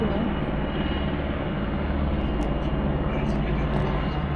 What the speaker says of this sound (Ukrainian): І от летить вертольот